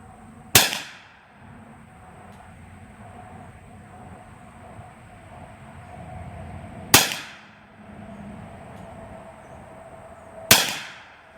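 Three widely spaced shots from a Kel Tec Sub 2000 in .40 S&W firing 180 grain steel-case Tula ammo, each a sharp loud crack with a ringing tail, steel targets struck at range.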